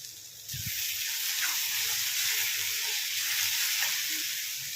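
Green chillies and curry leaves hit hot oil with frying onions, giving a loud, steady close-up sizzle that jumps up sharply after a brief quieter start and holds unbroken, with no voices.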